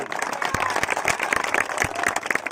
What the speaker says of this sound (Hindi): तालियां तो धमाकेदार बजाओ।